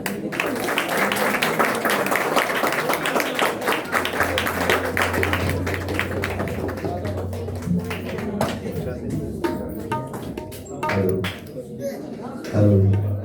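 A crowd at a Hindi Christian worship evening applauds a singer and tabla player with a steady patter of clapping. It thins out after about nine seconds into scattered claps under a speaking voice.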